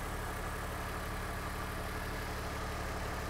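A BMW/MINI car engine idling during an automatic transmission fluid refill, a faint, steady low hum with an even rhythm and no talking.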